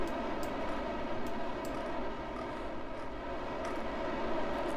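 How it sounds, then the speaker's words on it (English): Four small rocket engines firing together in the Kerbal Space Program video game give a steady, loud, dense roar that continues without a break, with faint ticking clicks high above it. "these 4 little engines are more noisy than a big upper stage engine"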